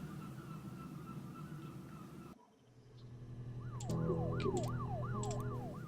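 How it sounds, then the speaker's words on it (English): Emergency sirens wail in the video game Her Story, rising and falling in repeated sweeps after a brief hush and a cut from a low hum, moderately loud and without talk. "Sirens, sirens, sirens."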